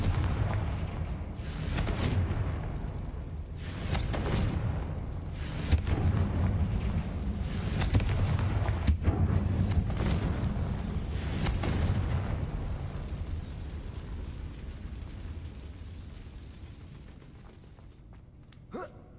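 Confringo spell blasts in the video game Hogwarts Legacy land as a series of booming explosions, about six or seven heavy bursts spread over the clip, each with a rumbling tail. No one talks over them.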